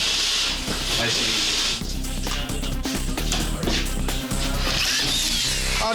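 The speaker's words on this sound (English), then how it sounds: "It's called a rasp. It's for taking the edge off of the drywall." A hand rasp scrapes with a rough, hissing sound along the rough edge of a drywall sheet during a construction repair job, a steady close scratching while someone speaks briefly.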